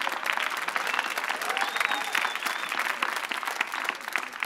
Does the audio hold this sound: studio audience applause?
yes